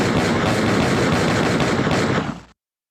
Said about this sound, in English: Gunshots for Drew Locke.